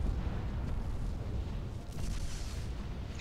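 Battle explosions in the Sins of the Prophets strategy game, a continuous low rumbling roar of booms and blasts with a brief louder burst near the two-second mark, loud throughout with no talk.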